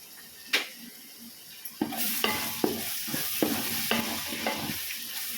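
A spoon scrapes and stirs turmeric through sizzling spices in a pan for chicken biryani, with repeated rhythmic strokes over a steady frying hiss, close up.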